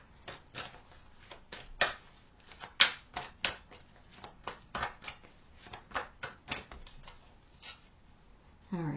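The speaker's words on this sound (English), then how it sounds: "Let's shuffle and get your card." A deck of tarot cards is shuffled by hand in a series of crisp, riffling bursts and taps, close and irregular, with light handling sounds between them and no voices.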